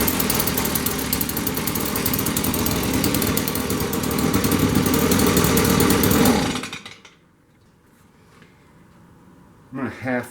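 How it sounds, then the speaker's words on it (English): Stihl BG65 leaf blower two-stroke engine running loud and close, a rough buzzing roar that holds for several seconds and then dies away to near silence, with brief noise at the end. "start her up. All right, it starts, but as soon as I try and give it any throttle, it dies."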